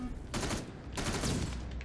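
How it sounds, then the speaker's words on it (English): Constant gunfire in the Terminator Resistance video game comes as dense bursts of rapid shots in two waves, loud and continuous with no gaps. "all you hear is constant gunfire"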